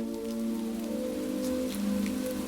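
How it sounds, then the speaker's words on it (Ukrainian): Steady rain patters over a surface, with a low constant hum underneath and scattered drops ticking through. "чи падіння дощу"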